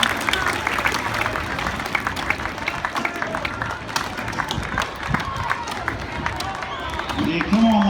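At a 275mm tree felling handicap woodchop event in Sydney, a crowd cheers and claps in a sustained roar, mixed with rapid rhythmic axe chops on wood close by and an announcer talking over it.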